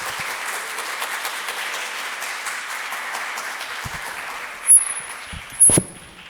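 Steady applause from a church congregation at a Sunday worship service, welcoming a guest pastor to the front; dense clapping fills the room, then tapers off with a few louder thumps near the end.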